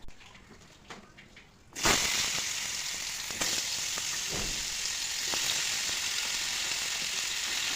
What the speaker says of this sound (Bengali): এখন ভাজাগুলো ছেড়ে দেবো